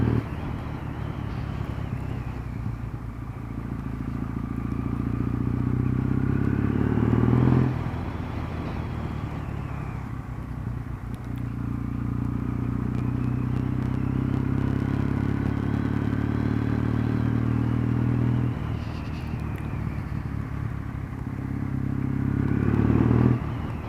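Kawasaki W650 motorcycle ridden along a Cornwall coast road, its engine droning steadily with rising and falling revs as it shifts through gears, heard up close without any talking.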